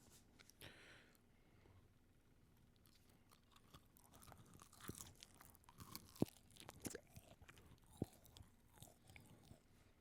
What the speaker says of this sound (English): Can you hear me munching?